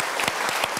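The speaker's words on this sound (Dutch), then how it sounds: "Geef een groot applaus, dames en heren" A magic show audience claps in a brief, dense burst, a steady crackle of many hands with a few sharper claps standing out, fairly soft and distant.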